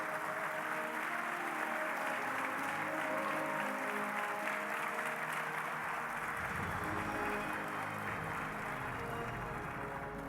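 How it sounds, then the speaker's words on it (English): Sustained audience applause fills a conference hall at an aviation-themed event, dense and steady from start to finish with no voices over it. "Let's give them a round of applause again."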